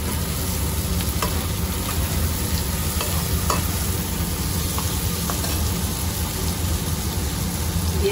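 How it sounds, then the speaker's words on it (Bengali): Potatoes fry in a pan with a steady, close sizzle and light stirring scrapes, for a desi chicken curry preparation; no voices. "এর মধ্যে আলুটা দিয়ে আমি ভেজে নেব।"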